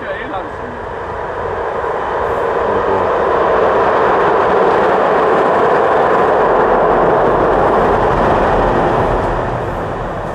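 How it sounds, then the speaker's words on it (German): A short train passes by close to a riverside campsite, its rumble and wheel noise rising to a sustained roar for several seconds before easing away. "Das war ein kurzer und leiser Zug."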